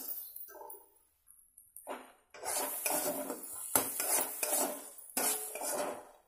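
A spoon stirs masala with tomato paste in a metal pan for banana kofta, scraping and clinking in repeated close strokes after a quiet start, with no talking.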